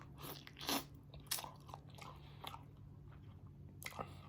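Someone bites into spicy sauced chicken legs, giving several sharp, close crunches spaced irregularly, with quieter wet chewing between them and no voices.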